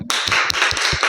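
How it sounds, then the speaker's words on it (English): Audience applause for a class 7 science presentation at a school, a short burst of claps with distinct individual hits, fairly close and loud, no talking. "let's have a big round of applause for them"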